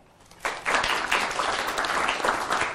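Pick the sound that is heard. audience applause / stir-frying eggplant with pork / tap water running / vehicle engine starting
audience applause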